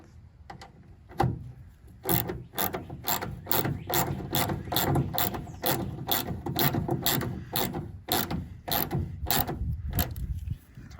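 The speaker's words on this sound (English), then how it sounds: "then you put in your bolts again with your 8mm wrench" Ratchet wrench with an 8mm socket tightening bolts on a 2016 Ford F-150 rear brake and turn signal light housing, a close run of quick, even clicking strokes in repeated bursts.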